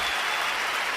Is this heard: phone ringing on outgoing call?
no